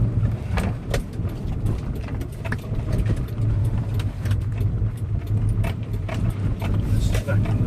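A 1993 Mazda B2600 4x4 pickup with a newly fitted aftermarket exhaust, engine droning and revving from inside the cab with the windows up, a steady low rumble with rising pulses of throttle and sharp ticks throughout.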